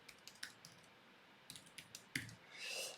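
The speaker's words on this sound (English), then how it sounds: "So we type in our password" A computer keyboard is typed on with soft clicks in irregular bursts as a password goes in, then a short pause and a brighter keystroke, quiet and close.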